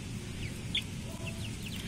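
Soft, high peeping chirps from young chicks come in scattered bursts over a low, steady background rumble, fairly close but quiet.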